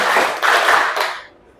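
A classroom of students claps together in a counted chant, producing a short burst of several blended hand claps that ends abruptly in near silence.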